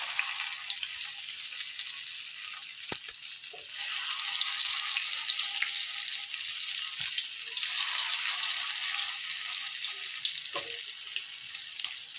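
Masoor dal boras, small lentil fritters, frying in hot oil with a steady, dense sizzle that swells as more batter goes in, with a few faint clicks and knocks nearby and no talking.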